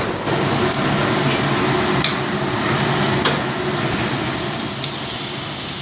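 Potatoes fry in a pan with a steady, close sizzle and a bubbling hiss, broken now and then by sharp crackles and stirring scrapes, running continuously with no talk.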